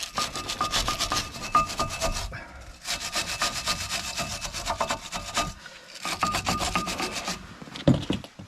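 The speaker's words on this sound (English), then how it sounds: "Just give it a good wire brush everywhere you can." Close, steady back-and-forth scraping of a wire brush scrubbing rust and dirt from a Mercedes-Benz C-Class W204 front brake caliper bracket, in three long scrubbing runs separated by brief pauses.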